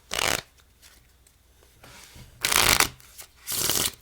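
A deck of playing cards is shuffled during a close-up magic trick, three quick riffle bursts, close and crisp, separated by quiet pauses with light handling noises.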